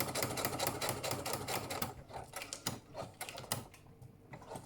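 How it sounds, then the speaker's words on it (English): A sewing machine stitches fabric with sequins in rapid mechanical bursts, its needle clattering close by, slowing and pausing briefly before starting up again. "Be careful you don't get any sequins in your sewing machine"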